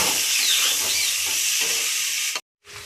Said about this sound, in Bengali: এবার একটু নাড়তে থাকবো।